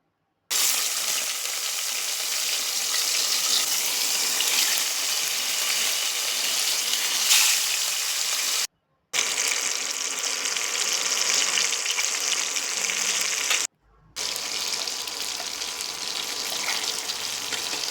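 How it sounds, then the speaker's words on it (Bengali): Puti fish frying in hot mustard oil in a wok makes a continuous bright, hissing sizzle, cut by two short gaps of silence. "এবার কড়াইতে সর্ষের তেল গরম করে মাছগুলো একে একে দিয়ে ভেজে নিচ্ছি।"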